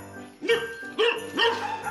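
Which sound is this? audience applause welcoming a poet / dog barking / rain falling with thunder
dog barking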